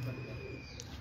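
A pigeon kept on a rooftop coos softly in a short, low, faint burst against steady background hiss, with no voices over it.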